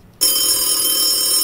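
A telephone rings loudly and continuously after a brief quiet start, sounding through a radio contest call to a winner.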